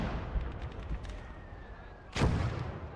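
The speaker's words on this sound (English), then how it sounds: "There's a mortar in the center." Mortar fire in the World War II strategy game Gates of Hell: Ostfront, with a distant thump and crackle, then a single heavy near blast that rolls out over the remaining seconds, no talk.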